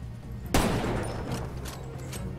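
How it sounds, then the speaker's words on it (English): A sniper rifle shot fired at the player in Far Cry 2, a single loud crack followed by a long rumbling tail that dies away over a couple of seconds. "There is a sniper somewhere. And I have no idea where. Picking shots at me."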